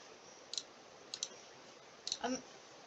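Computer mouse clicks in quick pairs, three bursts spread across a few seconds, close and crisp over a faint steady hiss with no talking.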